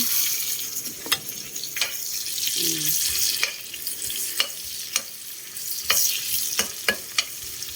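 Garlic, ginger and onion sauté in a pan with a soft, steady sizzle, punctuated by sharp clacks and scrapes of a utensil stirring at irregular intervals.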